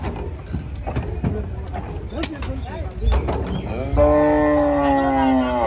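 Cattle being loaded one by one onto a trawler boat at a busy cattle market, with a long, loud moo rising clearly near the end over crowd noise and people talking.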